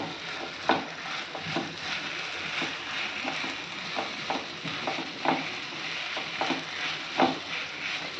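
A spoon stirs sago upma with potatoes through a hot pan, giving repeated soft scraping strokes over a steady sizzle, close and clear, with no one speaking.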